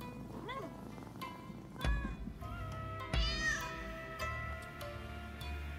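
Several cat meows from Rise of the Ronin, the video game, come in separate, clear calls against a steady ambient game backdrop, with a faint ticking beneath.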